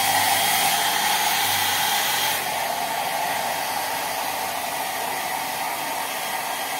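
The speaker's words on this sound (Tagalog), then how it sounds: "Naka-blower pa si Bulit, oh" A hair dryer blows on a freshly bathed dog with a steady, loud airy roar that drops slightly in level partway through, running continuously with no voices.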